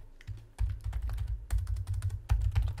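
Keys clatter on a computer keyboard as a file name is typed into a save dialog, a quick uneven run of close, crisp taps with short pauses between bursts and no talk.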